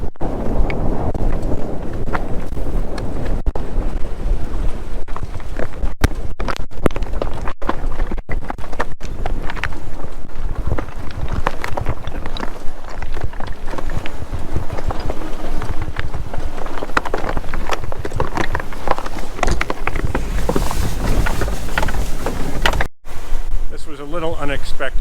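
Jeep Wrangler 4xe driving along a winter beach, with steady wind buffeting the microphone and a broad, loud rumble of tires and engine throughout, one brief dropout near the end.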